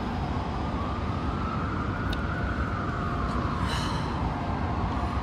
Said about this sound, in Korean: 지금 사이렌 소리